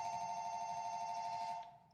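A house phone rings in a movie scene: a steady, electronic ringing tone sounds continuously for well over a second, then cuts off abruptly.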